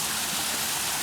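Water rushing steadily in a stream near a campsite on Rassagala mountain, a continuous broadband gush that fills the short moment without a break.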